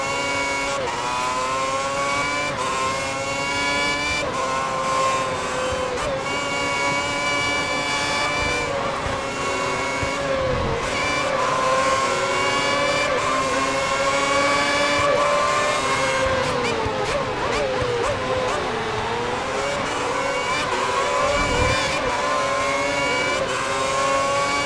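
Formula 1 race cars screaming at high revs while overtaking in F1 2010 at Istanbul Park, a loud continuous engine whine rising and falling through gear changes, with brief bursts of another car passing close by.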